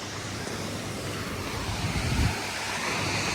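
Ocean surf at the beach in Laguna Beach, California, heard as a constant wash of waves and wind with one slightly louder surge of breaking water midway, and no voices.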